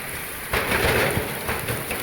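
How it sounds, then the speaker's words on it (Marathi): Heavy rain pours in a dense, steady hiss, swelling louder for a moment before easing slightly, with no voices. "जबरदस्त पाऊस चालू आहे"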